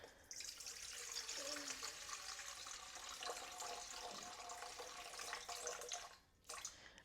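Water poured steadily from a container into freshly milled bread flour with 20% einkorn for sourdough, a soft continuous splashing trickle, close and quiet, ending in a brief pause and a final splash.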